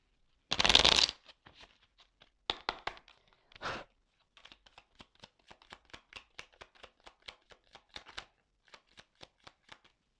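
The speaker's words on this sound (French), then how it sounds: "je prends encore quelques cartes" A deck of tarot cards shuffled and drawn at a table, with a few loud riffling bursts followed by a long run of soft, evenly spaced snaps as cards are laid down one by one, close and quiet.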